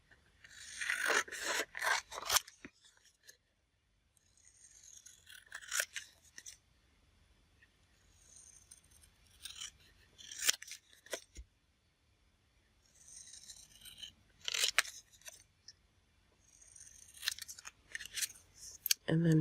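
Scissors cut out a paper tag for a Christmas journal in repeated close, crisp snipping and scraping bursts separated by quiet pauses, with occasional soft talk between cuts.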